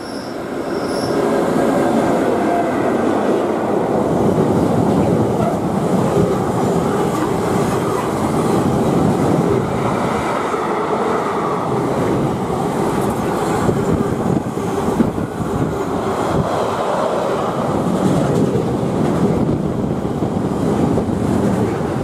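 Six train carriages hauled by Class 90 locomotives roll past close by at Carluke in a loud, continuous rumble, with wheels squealing and clattering over the tracks throughout.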